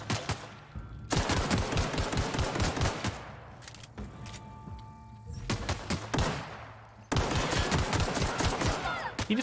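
Sharp bursts of gunfire in the sci-fi role-playing game The Outer Worlds, including a bullet deflected off a sword, coming in loud clusters separated by short quieter gaps with faint ringing tones.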